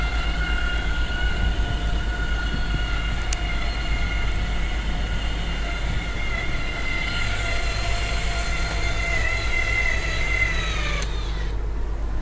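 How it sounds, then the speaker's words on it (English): Rear slide-out on a 2016 Dynasty 45P motorhome extending: a steady mechanical motor whine and hum runs unbroken for about eleven seconds, then cuts off, with no voices. "I'm going to go put the rear slides out"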